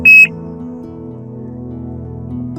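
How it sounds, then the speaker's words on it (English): Vintage bite alarm, close to 20 years old, set up for river pike fishing, gives one loud, steady high electronic beep lasting about a quarter second, then a low continuous hum continues underneath. "Alarm number 3."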